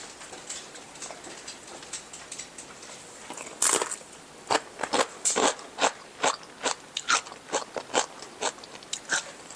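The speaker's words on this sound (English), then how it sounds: "I forgot to get a tortilla chip to taste this" Tortilla chip being bitten and chewed, a series of sharp dry crunches in an irregular rhythm, close to the microphone and fairly quiet, with no talking.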